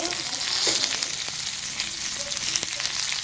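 Mustard seeds and onion fry in hot oil with a steady, close crackling sizzle, occasional pops and a faint stir, and no voices.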